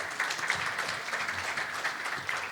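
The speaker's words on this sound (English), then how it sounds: "Can we have a huge round of applause?" A conference audience at a fraud prevention panel discussion applauds, a short, fairly faint burst of steady clapping from the crowd.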